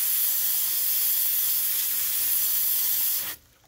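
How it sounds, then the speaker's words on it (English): Water sprays in a steady, loud hiss into a hot tub jet while it is cleaned, then cuts off sharply near the end. "And then I also spray from the side afterwards."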